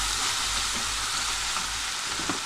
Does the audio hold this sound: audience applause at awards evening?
no